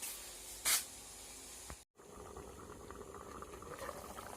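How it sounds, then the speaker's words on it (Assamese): Meat boils in a pot, a soft continuous bubbling hiss at low level, broken by a brief louder burst and a short dropout, with no talk. "কি ধুনীয়াকৈ উতলি আছে মাংস।"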